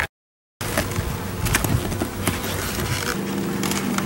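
A dense swarm of honeybees buzzes close up at a top bar hive, a steady, continuous hum that starts abruptly after a brief gap of silence.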